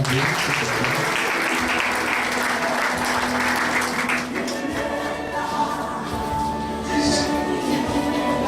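A church congregation applauds in a loud, dense wash of clapping that carries on steadily, with voices calling out among the crowd.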